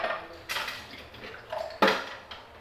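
Dishes being washed by hand at home, a big pile of plates: several separate clinks and clatters of crockery and cutlery with water running faintly underneath, close and fairly quiet.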